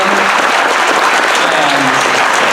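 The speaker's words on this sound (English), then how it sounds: "give these guys a round of applause" Audience at a middle school program applauding, a dense, loud, continuous wash of clapping from a crowd filling the room.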